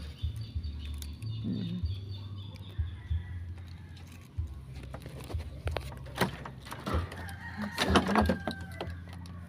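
Backyard chickens clucking and crowing near eggs being gathered, with a rooster's call and scattered clucks over a low hum, plus some rustling and handling noises that grow busier toward the end.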